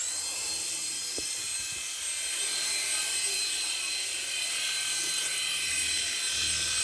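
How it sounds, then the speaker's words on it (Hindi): Steady whirring drone of a toy helicopter hovering in place, close and continuous with a high, buzzing rotor whine and no pauses. "ये रहा हेलीकॉप्टर, जो ना आगे जाता ना पीछे जाता"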